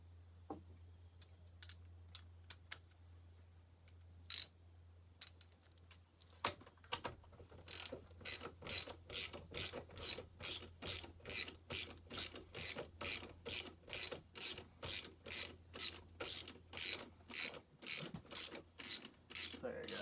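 Ratchet clicking while tightening parts on a McCulloch Super Pro 80 chainsaw being checked for air leaks: scattered clicks at first, then a steady, close run of sharp, evenly paced ratchet clicks over a low background hum.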